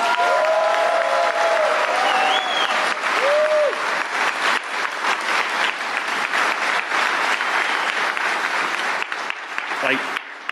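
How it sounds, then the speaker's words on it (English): A large crowd at the DEF CON 26 hacker convention closing ceremony applauds and cheers loudly for contest organizers, sustained dense clapping with whoops and voices throughout. "can we get a huge, huge round of applause for all the organizers of, of the contests and events?"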